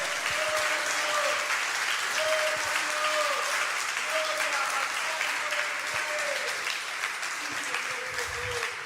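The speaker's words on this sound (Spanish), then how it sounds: "Dale un buen aplauso al Señor en esta mañana." A church congregation applauds during a Sunday morning service, sustained clapping for nine seconds with an organ or keyboard tone sounding faintly in repeated phrases underneath.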